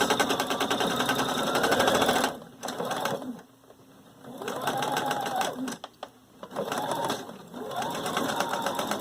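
Sewing machine stitching seams in rapid continuous bursts of needle clatter, stopping and restarting several times, close and loud.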